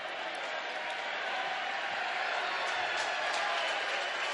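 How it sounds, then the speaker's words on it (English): An ice hockey crowd lets out a sustained mock cheer after an offside call, a broad, even roar of many voices held at steady loudness throughout. "A mock cheer for the offside."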